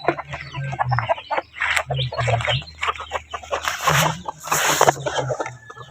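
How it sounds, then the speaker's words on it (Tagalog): Rhode Island Red chickens at feeding time, repeated close clucks and low throaty calls in irregular bursts, with a person speaking briefly among them. "Ang Rhode Island Red."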